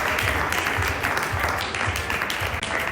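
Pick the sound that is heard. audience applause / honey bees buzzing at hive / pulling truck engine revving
audience applause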